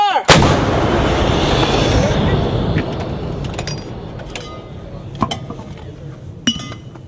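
Army National Guard infantry weapons fire during annual training, a loud blast at the start followed by rolling echoes and sharper metallic clinks and thuds as the reverberation fades.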